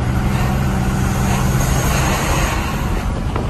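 Heavy diesel rumble of a RAM 3500 Cummins dually pickup accelerating, a loud, dense low drone with rising engine and road roar from inside the cab, continuous throughout without speech.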